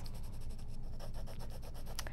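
A pencil scratches on paper while darkening the edge of a drawn shape, a soft, close, rhythmic series of short strokes with no talk.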